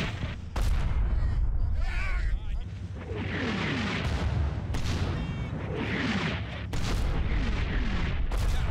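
Mortar barrage in the Combat Mission Battle for Normandy video game: repeated heavy booming explosions crash one after another, loud and continuous, with voices talking over the bombardment.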